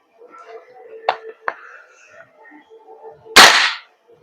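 A single sharp, loud gunshot-like pop of a Redmantoys 11.5 BCM MCMR airsoft gas blowback rifle, preceded by faint clicks and low handling sounds.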